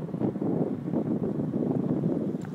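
Continuous rushing wind, gusting over 30 miles an hour, buffeting the microphone in steady gusts, with no voices.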